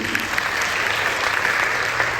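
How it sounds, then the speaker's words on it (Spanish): Steady, dense applause from a church congregation, a continuous wash of clapping with no break, fairly loud and close. "Así que demos un aplauso a Judy."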